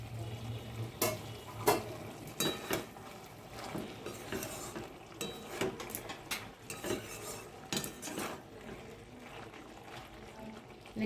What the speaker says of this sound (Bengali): আমি ঢাকাটা তুলে নিচ্ছি